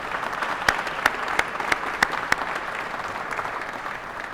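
An audience claps after a senator's opening remarks at an event, a dense continuous patter of many hands with a few sharper individual claps standing out, moderately close.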